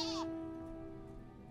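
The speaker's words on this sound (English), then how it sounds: "I ride on a little sheep." A sheep mount in the video game Final Fantasy XIV gives one brief bleat at the very start, then a steady musical tone from the game continues quietly.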